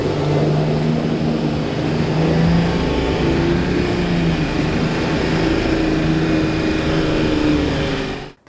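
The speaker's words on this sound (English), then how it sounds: "he's bringing those engine revs up and up and up." A 4x4 engine revs hard and steadily during a deep river crossing, a loud continuous drone with sustained high revs that cuts off abruptly at the end.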